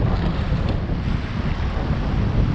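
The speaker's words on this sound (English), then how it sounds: "I've been out here getting wind whipped" Strong wind buffets the microphone on open water during spring kayak fishing off New Jersey, a steady loud rush with the wash of waves and no talking.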